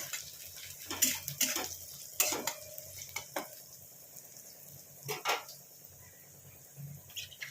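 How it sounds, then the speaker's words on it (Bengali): Onion and potato frying in a pan for a kidney bean dish, soft continuous sizzle with sharp scraping and stirring clatter of a utensil against the pan at irregular intervals. "ভালো করে পেঁয়াজটা ভেজে নিয়ে ফেরত আসছি"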